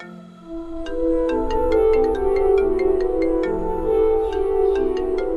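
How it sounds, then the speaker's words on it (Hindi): A mobile phone rings with an incoming call, a melodic electronic ringtone repeating its tune steadily and clearly from nearby for several seconds. No voices are heard. "मैं विश आंटी की कॉल आ रही है।"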